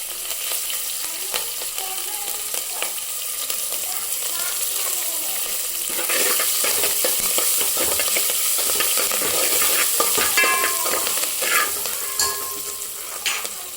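Asafoetida and chillies sizzle in hot oil as tempering for a moong dal and onion pongal, a bright, close crackle that swells midway, with spoon clinks throughout.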